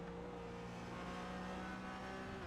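Audi TCR race car engine on a lap of Watkins Glen International in iRacing, a quiet steady engine drone with gradually shifting pitch throughout.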